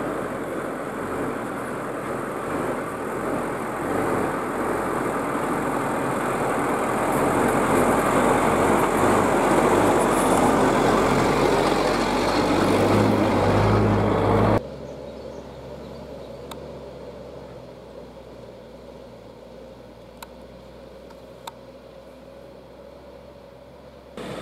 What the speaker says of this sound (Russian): судя по шуму мотора, включилась яскостная муфта